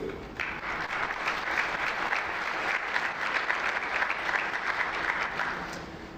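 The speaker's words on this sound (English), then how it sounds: "we should all give ourselves a big round of applause" A conference audience applauds steadily, a dense patter of clapping from many hands that holds at an even level throughout.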